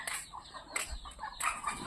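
Native chickens nearby, with soft clucks and rustling wing flaps in short bursts, fairly faint.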